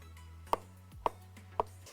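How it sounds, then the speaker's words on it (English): Three evenly spaced knife chops through tomatoes strike a cutting board, crisp and close, over a low steady hum. "I'm going to chop up my tomatoes next."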